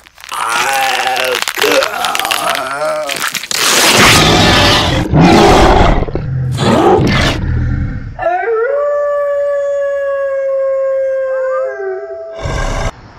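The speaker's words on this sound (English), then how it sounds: "I think it's a werewolf" A loud werewolf howl with roaring, growling bursts gives way to a long, sustained, wavering howl, close and alone, ending in a sharp final cry.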